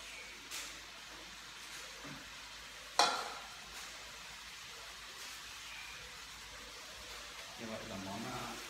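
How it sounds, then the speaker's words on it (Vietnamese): Food frying in a pan in a Vietnamese home kitchen, a faint sizzle under quiet background noise with a sharp clatter of utensil on pan and occasional stirring scrapes. "Việc bây giờ là các bạn là chiên nó lên."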